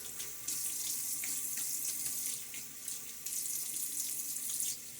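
Water runs steadily from a bathroom tap while a razor is rinsed after a wet shave, a close hissing stream with brief dips and surges.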